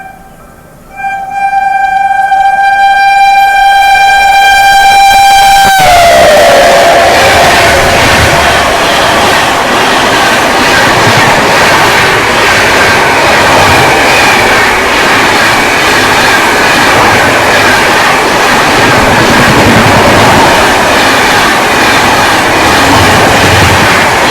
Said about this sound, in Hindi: पीछे से आ रही है क्यून ऑफ राजधानी यानी कि सियालदा राजधानी एक्सप्रेस